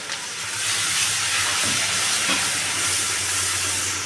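Water poured onto chilli powder and spices in a hot pan sends up a loud, sustained steaming hiss. The hiss is broad and close and holds steady for several seconds.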